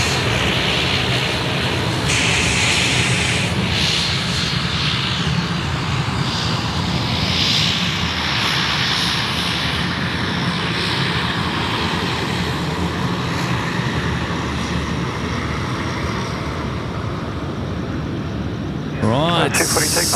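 Qantas passenger jet engines at Sydney Airport in the evening, a loud continuous roar that swells and holds for the whole stretch, heard from nearby with a spotter's voice over it.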